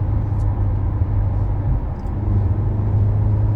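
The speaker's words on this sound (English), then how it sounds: "The car sounds good when you're doing it." A 2025 Hyundai Elantra N with no modifications runs steadily, its engine giving a low continuous rumbling drone heard from fairly close, with no speech.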